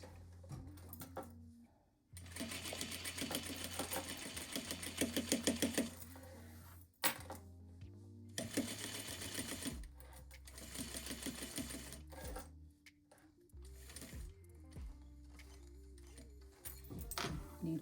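A sewing machine stitches a zippered pouch in several close, steady bursts of rapid mechanical chatter, separated by short pauses and clicks as the fabric is repositioned.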